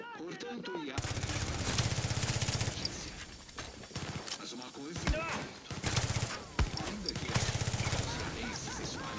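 Rapid bursts of Far Cry 6 gunfire crackle throughout, with repeated automatic shots and explosions over continuous game noise, a voice talking over it.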